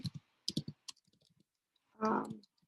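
Clicky typing on a computer keyboard, a few quick bursts of keystrokes near and fairly faint, followed by a short louder rustle.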